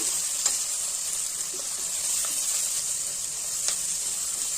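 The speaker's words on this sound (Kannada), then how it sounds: "ಈಗ ಇದಕ್ಕೆ ಕರಿಬೇವಿನ ಸೊಪ್ಪು, ಖಾರಕ್ಕೆ ಎಷ್ಟು ಬೇಕೋ ಅಷ್ಟು ಹಸಿಮೆಣಸಿನಕಾಯಿ ಸ್ವಲ್ಪ ಫ್ರೈ ಮಾಡ್ಕೊಳ್ಳೋಣ" Curry leaves and green chillies fry in a pan for a carrot stir-fry, giving a steady bright sizzle with a few soft stirring scrapes and clicks throughout, fairly close and without any talking.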